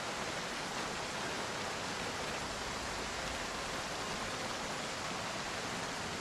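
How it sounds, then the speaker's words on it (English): Steady, loud heavy rain pours in the Project Zomboid game as an unbroken hiss with no pauses, filling everything and with no voices over it. "rain is loud"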